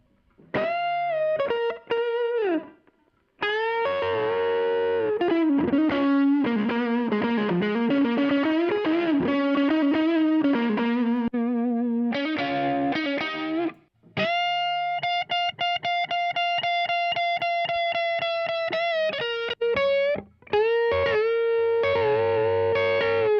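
A heavily overdriven electric guitar through a Marshall JCM 800 style amp plays sustained chords and a riff, thick and loud, with a couple of short breaks between phrases.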